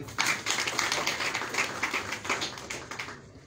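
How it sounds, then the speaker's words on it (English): Scattered clapping from a modest crowd at a political gathering in an office setting, a dense patter of hand claps holding steady at moderate loudness before fading near the end. "Clap for them."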